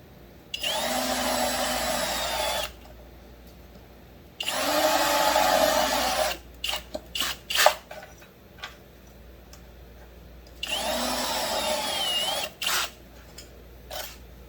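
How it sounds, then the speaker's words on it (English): An electric drill whines loudly in three separate bursts of a couple of seconds each, drilling holes, with scattered clicks and knocks in the quiet gaps between. "I'm just going to drill a couple of holes along the bottom."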